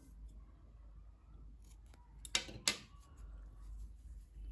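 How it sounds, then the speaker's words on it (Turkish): Two quick, crisp snips of scissors cut a yarn end during crochet work, close and distinct over a quiet low hum, with no talking. "Bakın şu ipliğin ucunda kesiyorum."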